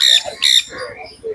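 A tame five-month-old sun conure at a weekend pet bird market lets out two loud, harsh squawks close by, each followed by a shorter, softer call, with faint market noise underneath.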